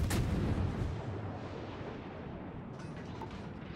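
Naval guns firing in World of Warships, a single sharp heavy blast at the start followed by a long rumbling decay that fades slowly under steady background noise.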